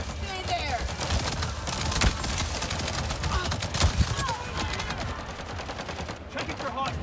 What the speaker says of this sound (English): I want to use my shotgun.